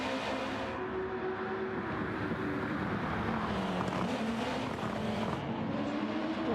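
A race car in a racing video game, a Ferrari 296 at Circuit Gilles Villeneuve, roars steadily through a qualifying lap, its engine note rising and falling as it shifts, with faint tire noise and no talk.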